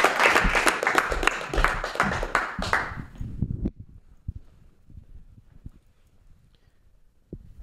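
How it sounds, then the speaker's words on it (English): Audience applause and cheering at a geek-themed stand-up comedy show as a comedian comes on stage, loud sustained clapping for about three seconds that drops off to sparse claps and quiet room noise. "Big round of applause for Isaac Pendergrass"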